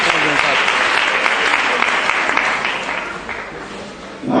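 An audience applauds at a donation ceremony for women's financing, a dense, loud burst of clapping that fades toward the end before a fresh swell.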